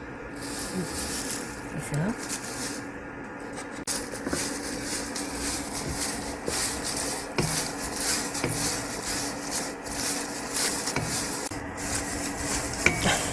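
Bamboo shoot inner leaves stir-roasted in a pan over low heat, with continuous dry scraping and rustling as they are turned, plus occasional light clinks of the utensil against the pan.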